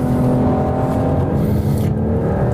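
Steady engine hum from a 2021 BMW 4 Series coupe being driven through a corner, a smooth tonal drone with faint road and tire noise, no voices.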